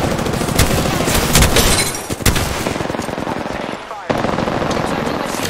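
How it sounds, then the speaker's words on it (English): Apex Legends gunfire: close, loud bursts of rapid automatic fire crackle through the clip, breaking off briefly before resuming, with a voice heard alongside the shooting. "They're shooting at me. I'm taking fire."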